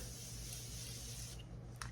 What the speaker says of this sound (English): Go in with the Morphe Continuous Setting Mist, and I spray.